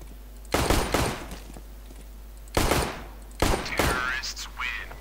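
Rapid bursts of gunfire crackle in short volleys in the video game Counter-Strike: Global Offensive, three separate clusters over a steady low hum, with a voice briefly heard near the end.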